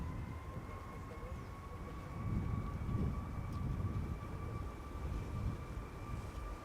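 KLM Boeing 737 Max 8 taking off at Schiphol's Polderbaan runway, a faint, distant, steady jet roar swelling slightly with a sustained whine above it.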